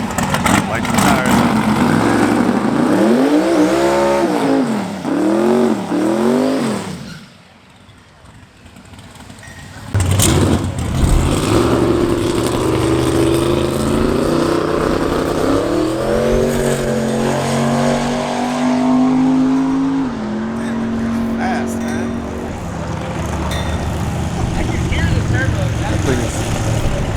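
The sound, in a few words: fast car accelerating on a private track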